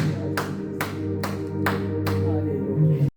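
A church congregation claps in steady rhythm during worship, sharp regular claps about twice a second over a sustained keyboard or organ chord that runs under them to the end.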